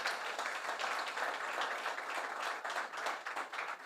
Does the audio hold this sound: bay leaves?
no